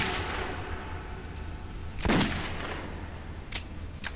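Sharp close gunshot from a weapon in Metro 2033 landing a headshot, one loud crack mid-clip followed by two quicker shots near the end over a noisy background, no talking.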